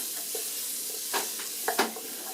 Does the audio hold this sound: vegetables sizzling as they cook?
yes